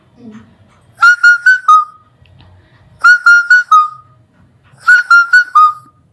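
A human voice imitates the call of a ketaki bird, repeating three loud, close, whistled phrases of four quick rising notes each, separated by pauses.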